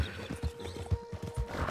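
A horse gallops in Red Dead Redemption 2, rhythmic hoof thuds at a steady pace over a faint background, moderately quiet and close.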